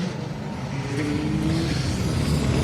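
A camouflaged Subaru rally car drives past the pit garages at a circuit rally stage, its engine note loud and close as it rises and pulls through the pass, with no talking.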